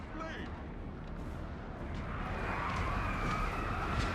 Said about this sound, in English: Wild Riders are being hit by the mortars